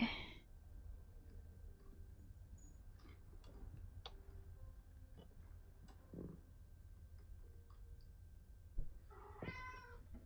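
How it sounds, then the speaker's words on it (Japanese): A cat meows indoors, faint and distant, in a few short calls near the start and again near the end, over a quiet room with a soft ticking. "猫の声がする。"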